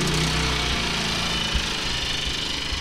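A Kings 2kVA portable generator running about a metre away, a loud, steady engine drone with a fast mechanical chatter throughout and no talking.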